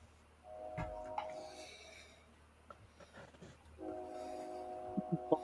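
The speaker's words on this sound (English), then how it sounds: "I hear the train a coming. It's rolling down the track." A train passes on the track behind a house, its horn sounding in sustained tones early and again near the end over a low rolling rumble, heard at moderate distance.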